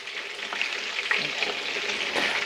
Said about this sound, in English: Can you hear that chicken frying?